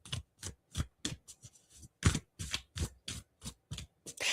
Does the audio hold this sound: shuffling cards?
yes